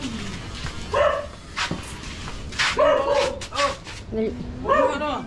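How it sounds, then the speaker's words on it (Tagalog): Several dogs bark and yip near a large house, in bursts of loud, overlapping barks with some whimpering, while people talk nearby. "Puro aso na."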